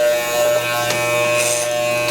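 Electric hair clippers buzz steadily during a short self haircut at home, a close, continuous motor hum with faint brushing as the blades pass through hair.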